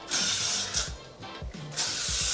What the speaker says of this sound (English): I'm just going to use a hairspray